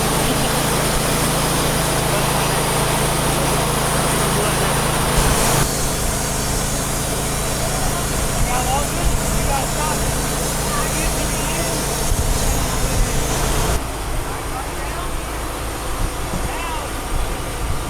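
A portable sawmill cutting 12-foot logs at a farm show runs as a loud, steady engine-driven whine that shifts in pitch partway through and drops slightly near the end, with people talking faintly underneath.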